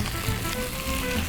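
Unpeeled carrot, onion, garlic and ginger sauté in a pan for fish stock, giving a brief, close, dense sizzle.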